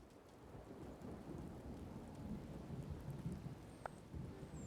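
Rain and rolling thunder in the Wylde Flowers farming game, a steady hiss of rainfall under low rumbling thunder with a few light ticks and chimes from the game on top.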